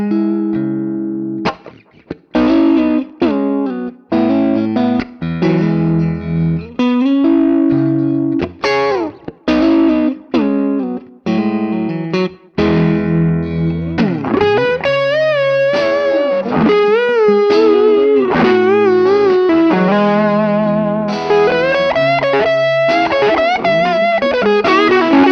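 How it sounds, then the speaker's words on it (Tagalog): Electric guitar riff through a Neural DSP low-gain amp model on a Quad Cortex, pushed by a tube screamer: loud, driven chords give way to sustained, ringing melodic bends and lines, played alone with no voices. "This amp finally nails it, and it's even better when pushed by a tube screamer."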